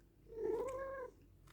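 A domestic cat gives a single drawn-out meow near the microphone, rising and then falling, against a quiet room.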